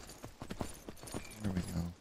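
Horse hooves clip-clop in a short, uneven run of steps while a rider brings the mount in within the open-world survival game Myth of Empires, with a low tonal hum rising under the final steps.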